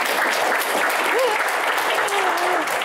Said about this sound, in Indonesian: Kita berikan tepuk tangan yang paling meriah untuk Bapak Sanetiar Burhanuddin